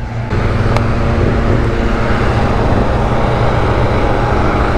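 A car passes on a busy road in Turkey, heard as a loud, close, continuous engine and tyre rumble, steady throughout.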